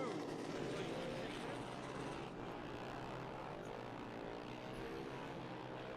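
Loud, continuous high-pitched roar of Formula One cars with V10 engines revving hard nearby at Road America, with a steady droning quality throughout and no pauses.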